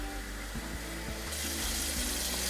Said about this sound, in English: it's cold water I'm adding